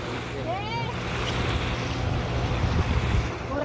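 Waves and wind rush steadily around a boat riding on a river estuary in Guatemala, a close, continuous wash of water with a brief whistling tone near the start.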